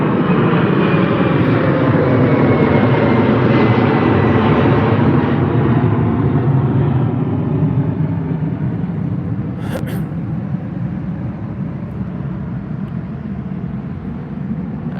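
A Delta Airlines Boeing 767 departing Heathrow roars steadily nearby, its engines a loud, sustained rumble with a slowly shifting whine.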